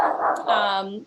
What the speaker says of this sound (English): my dog in the background